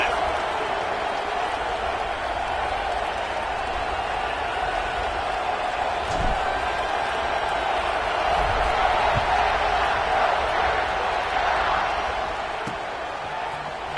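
A football stadium crowd roars steadily during a kickoff, a broad continuous din of cheering voices that swells slightly midway, heard from a distance with no clear talk over it.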